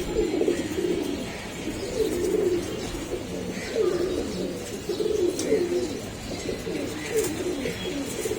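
Pigeons coo repeatedly in soft, throaty rolling phrases, several overlapping calls close by, with faint chirps and background rustling.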